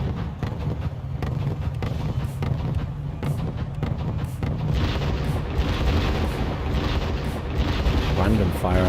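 Artillery fire in a wargame strategy video game, continuous distant booms and rumbling blasts layered over one another, with someone talking throughout.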